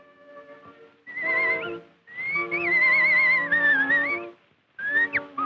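Artistic whistling on an early Edison recording, an expressive warbling whistled melody with slight vibrato over a thin accompaniment, played in phrases separated by short pauses, with no talking.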